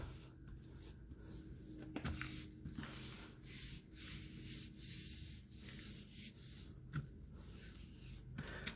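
Paper is rubbed by hand over a gel printing plate in repeated soft, dry strokes with short pauses between them, close and fairly quiet.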